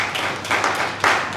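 An audience at a property sales masterclass in a Lagos hotel claps in a short, uneven burst of hand claps, fairly close and loud, with no talking over it.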